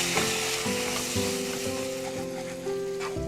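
Mace powder and yogurt masala frying in a pan with a loud, continuous close-up sizzle and occasional scraping stir strokes.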